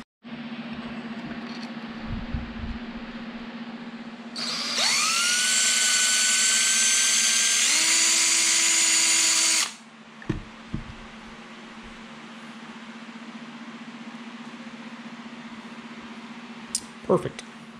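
A power drill enlarges a hole while finishing an electronics bay, its motor spinning up with a rising whine and running loud and close for about five seconds before stopping, set against a quieter background hum and a few clicks.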